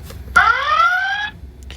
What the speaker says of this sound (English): It's like a siren.